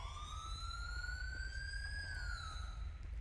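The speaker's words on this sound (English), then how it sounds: "Oh, look, the ambulance is here." An ambulance siren wails in GTA V with the LSPDFR police mod, a single long rising tone that peaks and then falls, fairly clear over a low background rumble with no talk.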